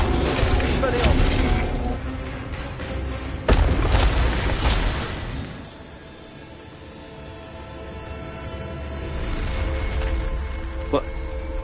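A burst of magical spell effects in a Harry Potter game, including an Expelliarmus cast: a loud booming blast with sharp cracks in the first half, fading into a lower rumbling wash and a final small crack.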